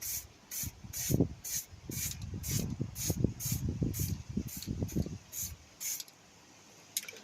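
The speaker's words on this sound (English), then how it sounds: "I will just spray this upside down to get the rest of the paint out" Short hissy bursts of an aerosol spray paint can repeat in a steady rhythm, with rattling and rubbing noises underneath, close by.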